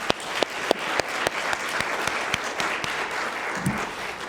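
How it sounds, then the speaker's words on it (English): An audience at a teen mental health summit gives a short round of applause, steady clapping from many hands filling a room, moderately loud and without talk. "So Kelsey, could you stand up so we could give you a round of applause, please?"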